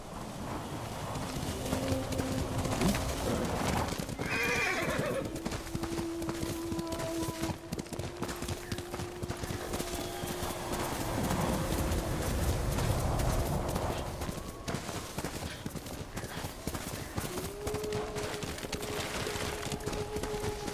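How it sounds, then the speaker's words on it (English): A horse in the video game Ghost of Tsushima clops along in a steady stream of hoofbeats, with a short neigh early on. The hooves are close and continuous, set against game music and ambient sound. "Horse!"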